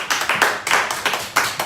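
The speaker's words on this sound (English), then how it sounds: "Big round of applause, thank you" A round of applause from an audience, a few sharp, separate bursts of hand clapping in quick succession, close and fairly loud, with no voices over it.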